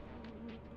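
Bees buzz in the Lethal Company video game, a steady close insect drone with a faint whine running throughout, no talk over it.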